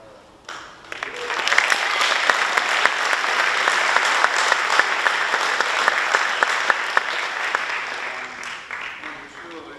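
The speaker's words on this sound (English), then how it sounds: "we should give a round of applause to Jocelyn and Eric" An audience at a high school annual awards night breaks into a round of applause, rising quickly from quiet into sustained, loud, dense clapping that holds steady for several seconds with a few sharper individual claps standing out.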